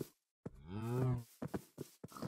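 A single Minecraft cow lets out a long, clear moo in the video game, close and fairly loud, followed by a few short thumps and clicks of gameplay.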